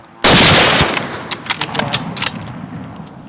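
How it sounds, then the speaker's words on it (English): A rifle fires during a bear hunt near a shoreline: one loud, sharp shot opens the clip, followed by a string of quicker, fainter cracks and echoing reports that fade out across the next few seconds. "I just emptied the rifle in because beforehand"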